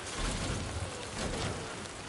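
Dense, steady rain pours down in the video game Death Stranding 2: On the Beach, a continuous hiss with a faint low rumble underneath.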